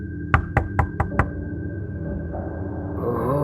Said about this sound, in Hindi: तभी अचानक एक आदमी आकर गाड़ी का दरवाजा जोर जोर से पीटने लगा।